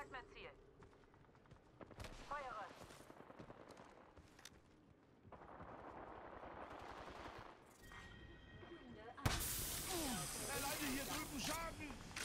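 Apex Legends gunfire sounds in rattling automatic bursts and scattered shots amid hissing game effects, fairly quiet overall, with people talking over it.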